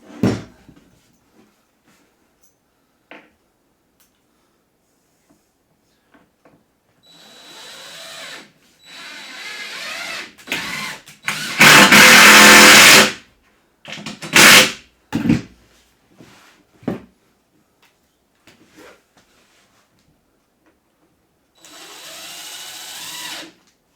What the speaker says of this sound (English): I'm just going to screw it down just with a couple of screws